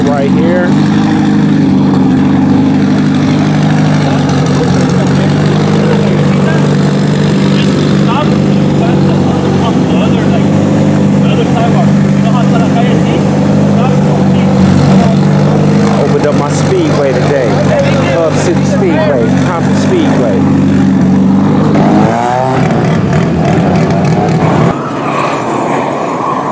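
Honda import drag cars lined up for a street race, a loud steady engine drone close by that holds, then rises into revving near the end, with people talking over it.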